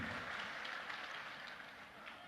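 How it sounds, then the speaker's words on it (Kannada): Sustained audience applause at a public programme, a dense, even wash of clapping that holds steady at moderate level for the whole stretch with no break. "ಚಪ್ಪಾಳೆ ತಟ್ತಾ ಇರಿ."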